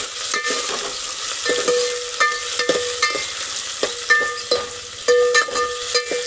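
Onions and chili sizzle and crackle steadily in hot oil, with repeated scraping and clinking as a utensil stirs the pan.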